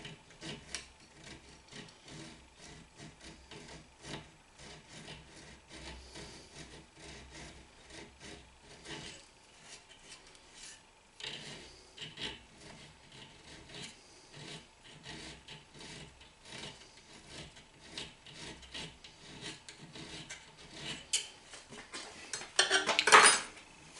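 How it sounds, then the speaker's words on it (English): Draw filing a steel T-slot cleaner by hand, a series of rhythmic scraping strokes with a rasping metallic edge, close and fairly quiet, ending in a louder clatter. "we'll just finish that off with a bit of draw filing when that's cooled down."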